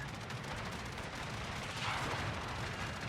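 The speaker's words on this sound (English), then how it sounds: "Anti-aircraft gun crews are on full alert." Anti-aircraft gunfire from the Swedish cruiser Öland in a naval battle video game, a dense continuous rattle of rapid distant shots blending into a steady roar, fairly faint with no talking.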